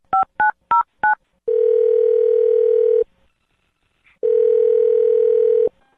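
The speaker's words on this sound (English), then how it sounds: "I'm going to dial her phone number right now" Four quick touch-tone keypresses dialing a phone number, each a short clear double-pitched beep, followed by two long steady ringback tones separated by a brief silence, loud and alone with no talking.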